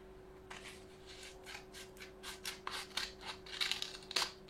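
Scissors snip repeatedly in short, crisp bursts, a steady series of cuts growing slightly louder toward the end, close by with no talking.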